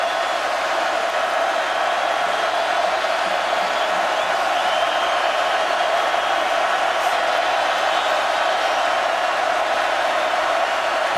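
Stadium crowd at an LSU college football game against South Carolina, a dense, steady roar of many voices at a constant loud level throughout, with no distinct individual shouts standing out.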